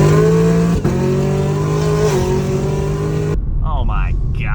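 A cammed Camaro ZL1 1LE with a supercharged engine fitted with an MPI supercharger lid holds a loud, steady, close engine drone with a slight rise around the middle, then cuts off abruptly to quieter, brief chirping sounds.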